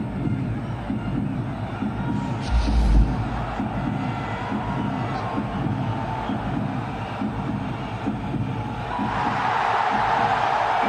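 Crowd noise in a cricket stadium during the 2011 World Cup final between India and Sri Lanka, a broad roar that swells slightly near the end.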